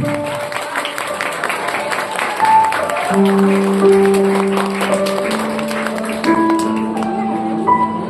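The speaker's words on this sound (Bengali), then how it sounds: "সবাই জোরে হাততালি।" Applause from a crowd at a college Teacher's Day celebration, a steady wash of clapping that swells after a few seconds, mixed with music tones and voices in the room.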